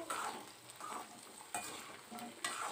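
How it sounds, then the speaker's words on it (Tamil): Garlic and small onions with curry leaves sauté in a pan for a spicy garlic kuzhambu, giving a soft, steady sizzle broken by recurring scraping stir strokes. "பூண்டு சின்ன வெங்காயம் நல்லா வதக்குறோம்"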